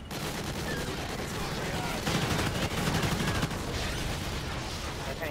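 Steady barrage of automatic gunfire from allied vultures in Call of Duty: Ghosts Extinction, loud and continuous throughout, with dense overlapping shots building slightly in the middle.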